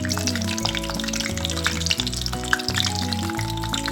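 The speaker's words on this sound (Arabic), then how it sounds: "ودلوقتي انا هاخده عشان احمره في الزيت" Eggplant frying in hot oil in a pan, a dense close crackling sizzle running steadily throughout, with a low background hum stepping in pitch underneath.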